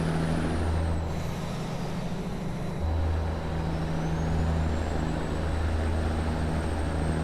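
Peterbilt 379X truck cruising on a highway in American Truck Simulator, a steady low diesel drone with a faint whine gliding across it, continuous and even, without talk.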